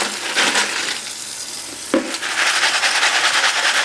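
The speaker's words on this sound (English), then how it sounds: "toss and shuffle, get in there with your hand and really work it in." Small plastic Lego parts are shuffled and tossed by hand in soapy water in a sink, giving a steady wet clatter and churning splash with a brief sharper knock midway, close and alone.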